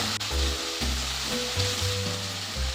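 Chopped tomatoes cooking in a pan with a broad, even sizzle throughout, with low hum and tonal background sounds under it. Nobody talks.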